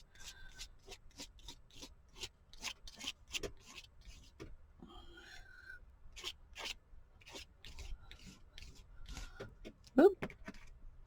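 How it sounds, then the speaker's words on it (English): Gesso scraped across mixed media postcards, a series of short, dry rubbing strokes in an irregular rhythm, close and fairly quiet, with occasional soft faint sounds between them. "I'm just going to put some, scrape some gesso on here."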